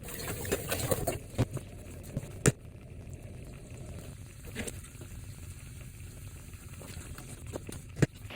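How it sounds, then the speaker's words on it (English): Foraged apple and blackberry jam boils in a pot with a continuous low bubbling and a few sharp pops and spits breaking through. "I'm gonna leave it a minute and let it boil"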